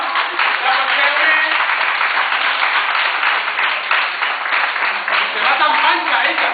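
A live audience claps steadily at a magic show at Magic Park Caldea in Escaldes, Andorra, with the applause dense and sustained and voices mixing in underneath.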